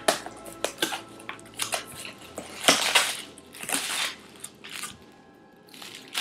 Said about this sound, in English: Lots of bubble wrap.